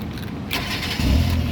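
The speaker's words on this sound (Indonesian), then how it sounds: "sekarang kita coba nyalakan mobil" Engine starting on a 2010 Kia Picanto 1.1 SE automatic: a crank-like burst of noise partway in, then the engine catches and settles into a steady, louder low rumble with no talk.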